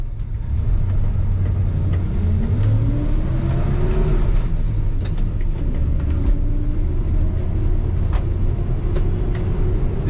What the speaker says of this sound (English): If I let go of the steering wheel, this truck stays nice and straight.